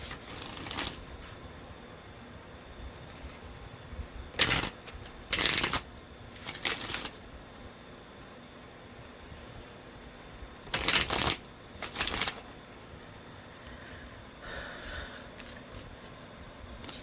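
Oracle cards shuffled in bursts during a tarot-style reading, crisp riffling rattles coming in several distinct short clusters over a quiet room background, close and fairly soft, with no speech.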